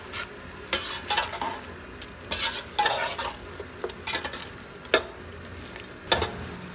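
Chicken stir-fries with pulao biryani masala in a hot pan: a constant close sizzle cut by rhythmic spatula scrapes and stirring bursts, with no voices.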